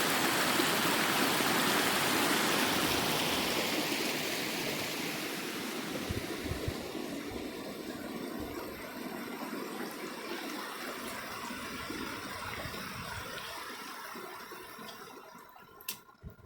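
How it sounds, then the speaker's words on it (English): A mountain stream and waterfall on Geneva Creek Trail rush steadily and loudly up close, a continuous broadband roar that eases slightly in the second half and carries no voices. "I want to show you a little further up on this waterfall too."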